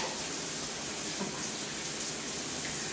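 Water runs steadily from a newly installed shower that is not on full blast, a dense continuous hiss and splash throughout with no talking.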